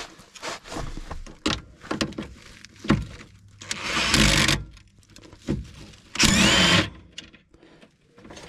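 An impact gun loosens the bottom nut on a Toyota Sienna lower control arm, firing two loud rattling bursts close by, separated by quieter clanks of tools and handling.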